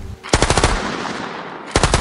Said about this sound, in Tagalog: Putok ng baril sa taas ni Mang Tabyong.